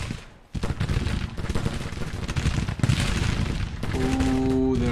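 Massed infantry volley fire in a Civil War strategy game, with a continuous crackle of gunshots and booms rolling on for several seconds after a brief lull, growing denser and louder toward the end.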